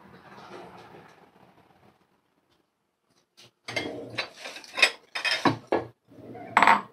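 A bowl is picked up in a kitchen while boiled potatoes are mashed with tamarind water, giving a few close, sharp clinks and clatters of dishware after a quiet pause, with soft handling sounds earlier.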